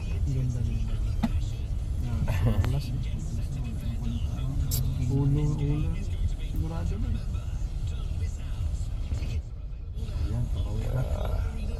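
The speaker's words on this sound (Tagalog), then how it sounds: "Daming sasakyan." Steady road traffic with many vehicles going by, giving a constant engine rumble and whoosh throughout while a person talks over it.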